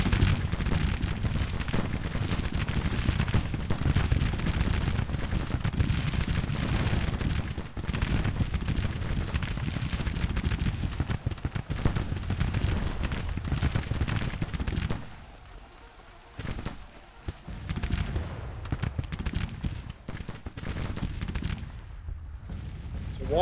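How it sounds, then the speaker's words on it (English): Artillery fire in the Civil War strategy game Grand Tactician, a dense continuous roar of cannon and gunfire across a battlefield, loud and sustained, thinning and breaking up toward the end. "Walker's Brigade under artillery fire, though."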